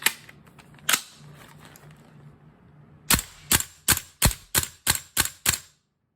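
Airsoft guns from VFC and Viper Tech fire as sharp, close snapping shots: two isolated cracks, then a quick series of about eight evenly spaced pops, with no talking.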